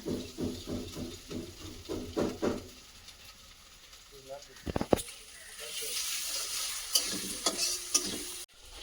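Old ginger stir-fried for a meat curry, a soft sizzle with scraping stirring strokes and a few sharp knocks, faint overall, with a voice talking at the start.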